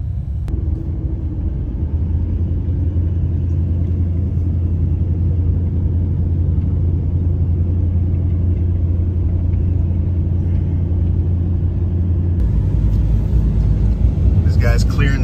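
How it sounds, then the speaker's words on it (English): Snow plows clear roads after a snow storm in Anchorage, heard as a steady low engine rumble from inside a moving vehicle, with someone talking over it. "Plows are out here working though."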